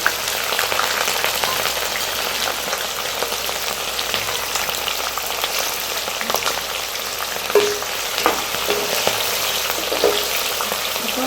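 Onions and green chillies frying in oil with biryani masala for veg dum biryani, a loud, even crackling sizzle that continues throughout with occasional brief pops and stirring clicks.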